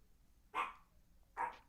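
A pet dog at home gives two short barks about a second apart, faint and somewhat distant, with quiet background between them and no talking.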